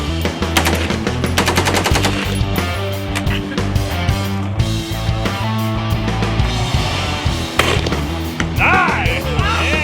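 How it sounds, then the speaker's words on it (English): Rifle and pistol gunfire rings out on a shooting course: rapid, sharp shots crack in dense, fast succession, loud and close, over a steady layered background. "This is a 43-round course of fire. You'll need 22 rifle, 15 pistol, and 6 shot."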